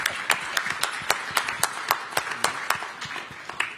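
Small audience at an energy security summit in Baton Rouge clapping, a sparse, fairly regular run of distinct claps from a modest group, close and clear with no talk over it.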